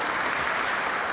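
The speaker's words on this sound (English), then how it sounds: "let's applaud him" An audience claps for a man's birthday, a steady burst of dense applause that is brief, continuous and fairly close.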